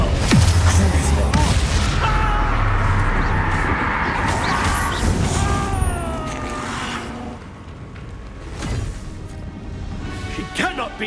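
Spell explosions from combat in the video game Hogwarts Legacy, heavy booming blasts and crashing impacts layered with music and effects, loud and dense throughout.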